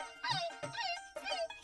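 Dog barking in a Hindi sitcom scene, a few sharp, high, yelping barks in quick succession, close and fairly loud, with no talk over them.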